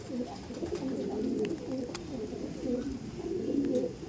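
A pair of Andhra pigeons, a male and a female, coo steadily and close by, overlapping rolling calls that continue throughout with faint clicks in the background.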